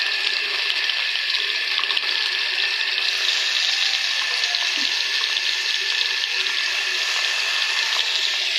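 Chopped garlic fries in a pan for dried fish (shutki) bhuna, a steady, bright hissing sizzle that holds evenly throughout, close and fairly loud, with no voices.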